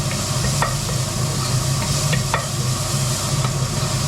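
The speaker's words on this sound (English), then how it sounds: "I'm going to add that onion and garlic. I'm just going to very gently sweat this off." Onion and garlic gently sweating in a pan for lobster thermidor, giving a steady soft sizzle with a few clinks of stirring, close and continuous with no talk.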